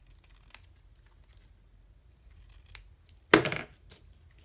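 Scissors cut a small paper stamp in a few quiet snips, then one sharper, louder crunching cut and a brief final snip.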